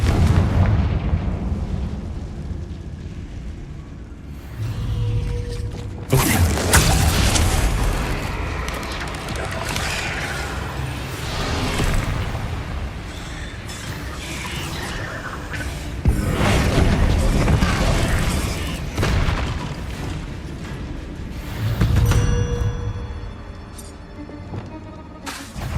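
Confringo fire spell cast in Hogwarts Legacy, heavy booming blasts and crackling bursts that come in several loud waves over rumbling game action.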